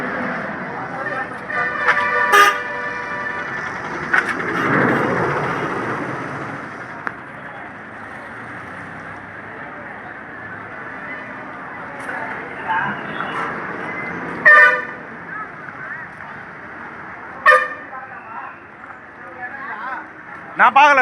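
Live street ambience at the Chengalpattu bus stand, with busy traffic noise and several sharp, loud bus horn honks scattered over about twenty seconds, with voices in the crowd underneath.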